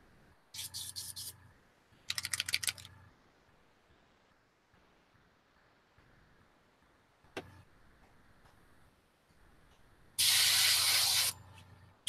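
Paint spray gun laying bone-colored paint on a car interior, several short hissing bursts followed by one longer, louder blast, close and sharp with quiet gaps between.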